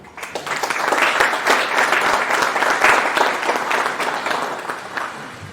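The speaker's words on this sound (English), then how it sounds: "Let's give a round of applause to Mr." Audience in Zambia at a business talk applauds speaker Peter Kaunda: dense, sustained clapping from a sizable crowd, steady for several seconds before thinning out at the end.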